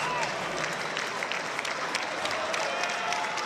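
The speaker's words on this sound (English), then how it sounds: "And everyone's clapping their hands" Steady clapping from a crowd at a men's college volleyball match between Loyola Chicago and Stanford, sustained and dense throughout, with crowd noise and a voice mixed in.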